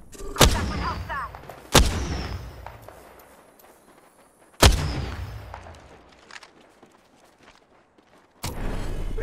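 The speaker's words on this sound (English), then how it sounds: "Listen up, I'm getting shot at." Gunfire in the battle royale video game Apex Legends: four sharp, loud shots spaced several seconds apart, each with a decaying echoing tail, alone without talk.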